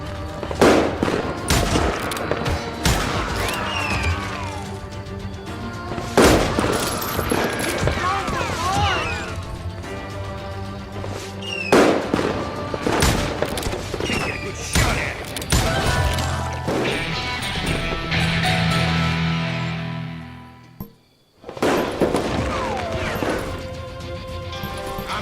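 Heavy gunfire in the video game Call of Juarez Gunslinger crackles in loud, dense bursts over a shootout, with shouting voices breaking in between volleys and a brief silent gap near the end.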